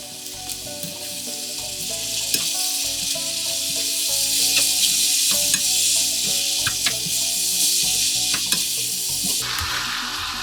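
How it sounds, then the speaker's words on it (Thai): Spring roll filling is stir-fried in a pan, a steady loud sizzle broken by repeated scrapes and clinks of the spatula against the pan, with no talking. "ยายก็จะผัดไปประมาณ 4 นาที5 นาทีนี่แหละค่ะจนกว่าไส้ปอเปี๊ยะเนื้อเราจะแห้งนะคะ"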